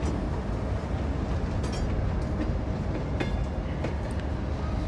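In a city-building video game, a train pulls away from a station in the city centre with a continuous, even rolling rumble and faint metallic squeaks. It carries on without pause under a constant background hum.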